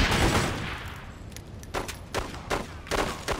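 Sniper rifle fire in the Godfather 2 game on PC, heard as a loud burst at the start that fades, then a string of sharp, fairly close shots about every half second, with no talking.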